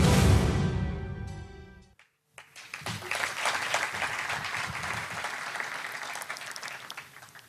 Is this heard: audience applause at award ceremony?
yes